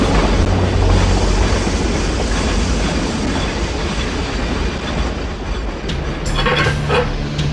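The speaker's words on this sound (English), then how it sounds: "Stop the train!" A steam train rolls along in The Last Express with a continuous loud rumble and rattling clickety-clack of wagons, steady throughout, with no voices.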